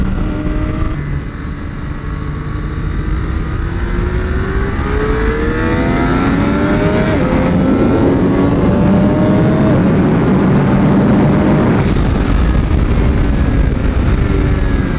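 A Moto2 Triumph Daytona 765 motorcycle engine on a race track holds a loud, steady roar that climbs and falls in pitch through gear changes, close up, with constant wind rush and no talking.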